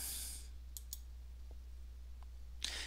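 Mouse clicks on a button in accounting software, a few small, faint, sharp clicks spread over a quiet stretch with a steady low hum behind them, and no talking.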